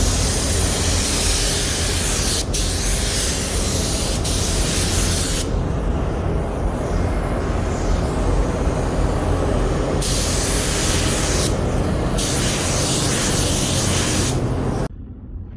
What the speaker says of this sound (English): Tried to record a little bit the best I could to give you an idea of the pattern and coverage you use with this adhesion promoter.